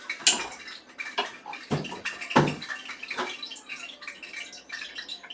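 Hot oil crackles and sizzles as water hits it, a close, irregular hiss broken by sharper spits and pops that rises and falls over several seconds.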